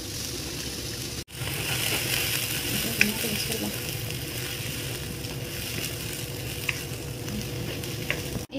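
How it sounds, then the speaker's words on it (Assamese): Washed rice and soybeans fry in a pan for veg pulao, giving a steady, close sizzle with faint stirring scrapes, briefly cut by a short gap. "এই দুইখিনি ধুনীয়াকৈ ভাজি লওঁ।"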